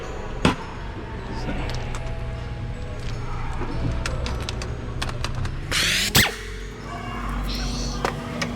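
Air tools work on car axle bolts on a Nissan 370Z, with sharp impact bursts and ratcheting clatter over a steady compressor-like hum, one loud burst near the end.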